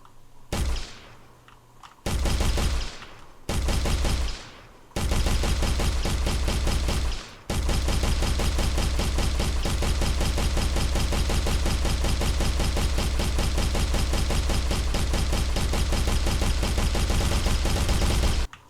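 Gunfire in an Unreal Engine 5.4 game: a few short bursts of shots, then a long, steady stream of rapid automatic fire, loud and close.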